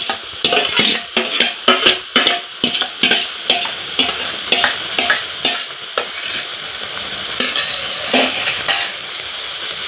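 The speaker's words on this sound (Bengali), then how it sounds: "এখন যে বাকি আমগুলো আছে এগুলো আমি দিয়ে দেবো।" Raw mango pulp stirred in a pan with a spoon, a steady series of scraping, squelching strokes with faint sizzling underneath, close and clear with no talking.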